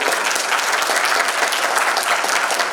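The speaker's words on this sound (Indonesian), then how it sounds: "Beri tepuk tangan dulu." Steady, dense applause from an audience at a youth entrepreneurship bootcamp and festival, loud and continuous throughout without pauses.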